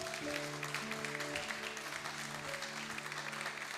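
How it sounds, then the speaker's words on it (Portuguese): A church congregation applauds, sustained clapping held at a moderate level, while sustained musical tones play underneath. "Se eu fosse você, eu aplaudia o Senhor por essa palavra."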